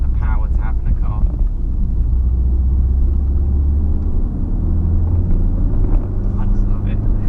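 VW Golf R driving at about 40 mph over a bumpy tarmac road, a steady low engine and road rumble with cabin noise throughout, under someone talking.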